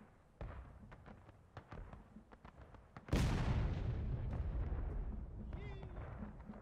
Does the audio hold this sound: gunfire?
yes